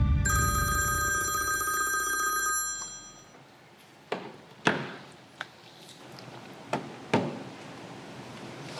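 A telephone bell rings loudly for about two and a half seconds, then stops; several sharp knocks or thuds follow in a quiet room, with no talk.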